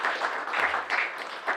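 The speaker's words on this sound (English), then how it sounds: "Round of applause for John." Audience applause for a podcast host's collaborator at a live event in a vinyl record shop, steady clapping at moderate volume, continuous for a short burst.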